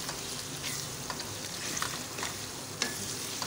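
Minced meat mixed with spices being stirred in a hot pan, with soft scraping strokes of a spoon over a steady low sizzle, a few sharper clinks standing out, no voices.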